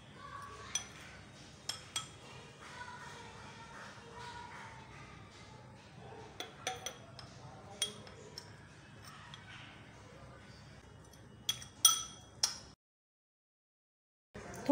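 A spoon stirring cornflour and coconut oil into a paste in a bowl, giving faint scattered clinks and scrapes at an irregular pace, with quiet gaps, before the sound drops to silence near the end.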